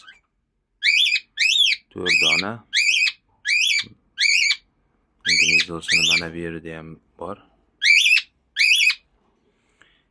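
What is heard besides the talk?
cockatiel parrots calling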